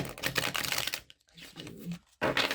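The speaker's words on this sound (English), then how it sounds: "Let me do a shuffle real quick on the desk" Tarot cards shuffled on a desk, a dense papery riffling clatter for about a second, then quieter scattered card sounds, a brief pause, and another loud burst of shuffling at the end.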